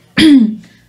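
One short, close throaty cough from a person feeling slightly sick, a loud voiced hack that fades quickly.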